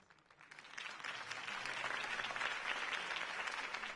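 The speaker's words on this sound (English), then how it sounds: "Mr. Wayne, my campaign's largest backer, could have heard that applause" Applause from a crowd in the video game Batman: The Telltale Series swells after a quiet start and holds steady, dense clapping that fills the space for several seconds.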